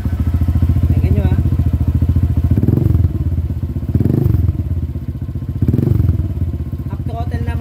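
A Honda Click 125 scooter fitted with a power pipe exhaust, revved in short bursts over a loud, close idle with a rough, popping burble. Someone talks over it.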